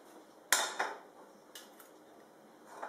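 A frying pan holding cherry tomatoes and garlic is set onto a kitchen stove, giving one sharp metallic clank followed by a few lighter knocks and clinks, close and without talk.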